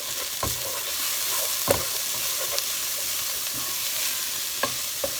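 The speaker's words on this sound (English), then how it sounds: "Stir that for a minute." Carrots and onions sizzling in a pot for spaghetti bolognese, a steady frying hiss with a few distinct knocks and scrapes of a stirring spoon, close and fairly loud, no talking.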